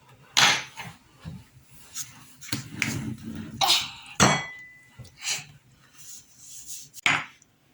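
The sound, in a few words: mixing cookie dough with salt in a bowl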